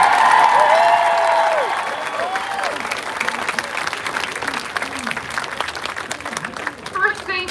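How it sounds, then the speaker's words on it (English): Rally crowd applauding, loud sustained clapping at first that tapers off slightly, with whistle-like tones and a voice over a PA system heard alongside. "Please, a big round of applause for everyone."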